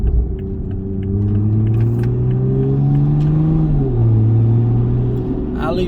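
Toyota Supra MK5 fitted with a big turbo pulls hard in a manual gear, its engine note climbing steadily, dipping briefly at a shift, then rising again, loud and close with a rumble underneath.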